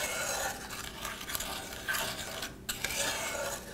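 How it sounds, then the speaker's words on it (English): Brown sugar stirred into melted butter in a pan, a steady scraping and gritty rasp of a utensil against metal, continuous and close, with no talk. "You mix that with the butter until it kind of looks like wet sand."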